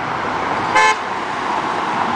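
A car horn gives a single short, loud toot, clear and close, with steady road noise before and after.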